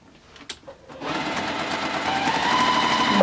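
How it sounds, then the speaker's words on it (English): A sewing machine straight-stitches fabric for a pinwheel quilt block. After a few faint handling clicks, the machine starts up and runs in a continuous, fairly loud whir, with no talk. "Make sure the fabric stays straight as I feed it through the machine"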